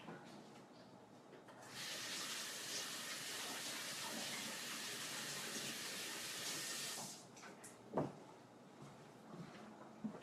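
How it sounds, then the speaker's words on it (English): Steady hiss of tap water runs for about five seconds while hands are rinsed under it, fairly close, then cuts off, followed by a few small knocks and handling sounds. "Let me go ahead and rinse my hands here in 1 sec."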